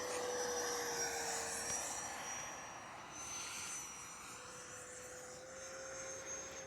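An FMS 80mm Dassault Rafale RC jet flies at a Fourth of July celebration, giving a steady, loud whining roar that drifts slightly in pitch and holds without a break, with no voices.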